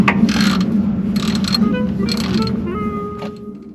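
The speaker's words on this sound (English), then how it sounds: "So there's a little switch in the bottom of that wrench that you flip to make it go the other way." Ratchet wrench on a socket loosening a bolt during a vehicle oil change, with bursts of rapid clicking over a steady low background hum, fairly close.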